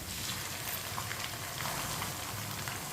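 Onions and chopped tomatoes fry in a pan over medium heat, a dense steady sizzle and crackle close by, with no talking.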